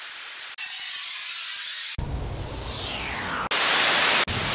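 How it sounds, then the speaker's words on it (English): A series of loud white-noise bursts and sweeping hisses, some falling in pitch like a splash, cut off abruptly one after another with no voices. "So these are white noise things,"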